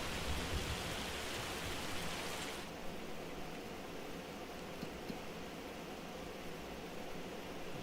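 Hail mixed with rain falls in Farming Simulator 25, a steady dense hiss of pattering that holds at an even level, easing slightly after a few seconds but never stopping.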